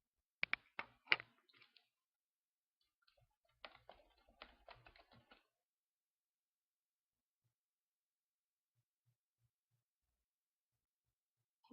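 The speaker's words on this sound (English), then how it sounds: "let me go ahead and type something in here" Quiet bursts of computer keyboard typing, two short runs of rapid clicking keystrokes separated by a pause, then near silence.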